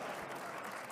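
Audience applause at the ShmooCon 2025 opening remarks, a steady wash of clapping from a crowd filling the whole second with no gaps, fairly quiet and even in level.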